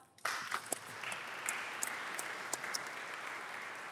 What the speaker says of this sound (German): Und vielleicht nochmal einen Applaus.